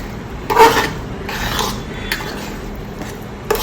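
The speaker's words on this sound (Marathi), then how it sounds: "आटवून घेतलेले ते मिक्स करायचं आणि मंद आचेवर पूर्ण कोरडं होईपर्यंत हलवत राहायचं" Coconut barfi mixture stirred in a pan over low heat, a spoon scraping and clinking against the metal in a few soft strokes, with a sharper knock near the start and another at the end.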